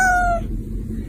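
A cat gives a single short, loud meow that ends quickly and leaves a brief quiet tail.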